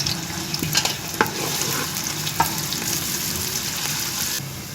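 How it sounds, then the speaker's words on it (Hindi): Onions sizzle and crackle steadily as they fry in mustard oil, turning light brown, with a few sharper pops and spatula scrapes breaking through the dense, even frying noise close by. "प्याज को हम लाइट ब्राउन कर लेंगे"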